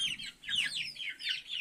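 Chickens cluck in short, fairly near calls in a small group, pecking at a chick among them. Soft rustling sits under the calls.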